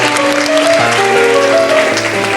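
Studio audience applause on a late-1970s French children's TV show, a dense steady clapping wash lasting throughout, with music tones sustained underneath.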